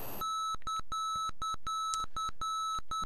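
A navigation marker beacon in Flight Simulator 5 sounds as a steady, clean electronic tone, broken into a rhythmic pattern of long and short beeps that repeat without pause throughout.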